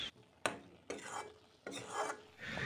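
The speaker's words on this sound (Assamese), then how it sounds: "এয়া মই ভাজি আছোঁ ভালদৰে।" Cut potatoes fry over a low gas flame as a spatula scrapes and stirs them in a pan, four or so distinct strokes, quiet and close, with a soft sizzle and no talking.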